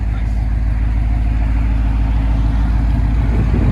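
A deep, loud engine rumble from a Ram pickup truck exhaust idling close by, steady and throaty throughout.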